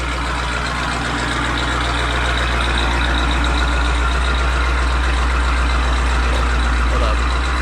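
A loud modified car with an upgraded upper pulley idles close by, its deep, steady engine rumble and whine holding constant throughout with faint background voices underneath.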